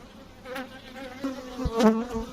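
Honeybees buzz close by, a busy droning hum that rises and falls as individual insects fly near, with some brief handling noises as bees are shaken off a frame.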